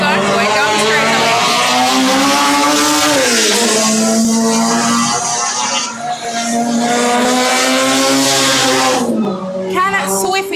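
Race cars at a Carnival of Speed racing event roar down the straightaway with a steady, loud engine drone that dips briefly and surges again as cars pass close by.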